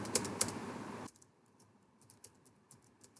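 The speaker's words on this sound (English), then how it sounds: "here you have to type your Gmail address" A Gmail address typed on a computer keyboard, a quick burst of close key clicks followed by sparser, fainter taps against a quiet background.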